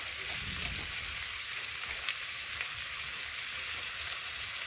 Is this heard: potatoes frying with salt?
yes